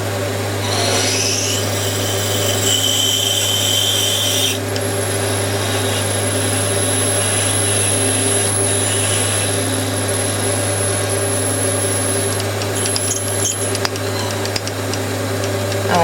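A 4.1 mm drill held in a lathe chuck bores a hole during a shop-made knurling tool build: a steady motor hum with a high, thin whine of cutting, continuous and close, without speech.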